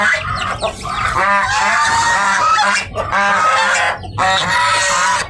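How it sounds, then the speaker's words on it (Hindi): A duck honks loudly and close by, a string of harsh nasal calls in quick bursts with brief gaps between them. "कितना बदतमीज बतखा है ये"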